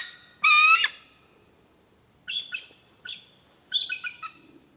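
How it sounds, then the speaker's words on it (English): An American kestrel gives a loud, near, high-pitched call, a sharp burst followed after a pause by several quick clusters of shrill repeated notes. "this is the American kestrel"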